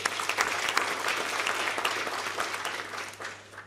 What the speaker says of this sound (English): I think you deserve a round of applause there.